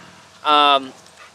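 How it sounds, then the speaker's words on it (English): A dog gives a single short whining yelp with a clear tonal pitch, lasting under half a second against a quiet background. "There's a dog."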